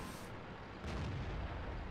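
A single tank cannon shot in the World of Tanks video game lands as one sudden heavy boom under steady background battle noise, with no talking.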